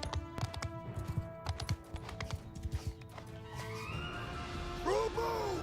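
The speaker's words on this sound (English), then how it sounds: "Especially with the horse archers coming in." Horse archers gallop in during a Bannerlord battle, a clatter of many hooves thudding in rhythm at close range, then a loud whinny and rising battle noise near the end.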